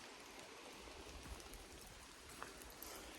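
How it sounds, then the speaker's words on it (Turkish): Steady autumn rain in the Kaz Mountains (Mount Ida) patters softly and continuously, a faint even hiss with occasional heavier drops. "2-3 gündür hiç durmadan yağıyor."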